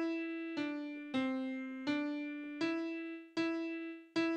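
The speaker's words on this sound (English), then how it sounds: "That's the sound of the piano you hear." Piano notes struck one at a time in a slow, steady rhythm, each ringing and decaying before the next, played alone and close.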